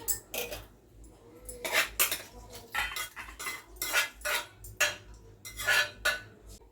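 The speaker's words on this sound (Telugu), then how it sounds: "కర్రీ అయితే గిన్నెకి అయితే వేసేస్తున్నా అండి" A metal spoon repeatedly scrapes and clinks against a pot and bowl in uneven bursts as curry is served into the bowl, close and fairly quiet.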